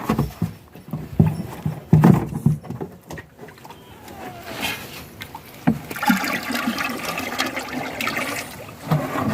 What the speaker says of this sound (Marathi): हे पूर्णतः शेणाचे स्लरी किंवा द्रावण आपण याच्यामध्ये ॲड केले